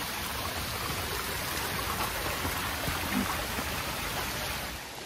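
Steady, dense rain falls on a monsoon trek to Kalavantin Durg, an even wash of close hiss with no pauses and no voices.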